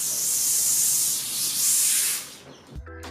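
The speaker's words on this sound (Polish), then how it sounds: "mianowicie moment ściągania folii z tej takiej szybki od ramki" Protective plastic film being peeled off the glass of a picture frame, a continuous close rasping, hissing tear lasting a couple of seconds, then a brief knock and quiet.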